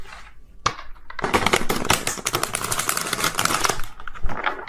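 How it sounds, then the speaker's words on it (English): Riffle-shuffling a tarot deck, a dense run of rapid crisp card flutters lasting a few seconds, close and fairly loud, with quieter handling before and after. "So hard to shuffle this deck."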